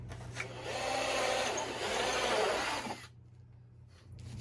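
A drill bores through a 3/4 inch wooden board with a backup board for a bird feeder, a close grinding whir lasting about three seconds before stopping abruptly.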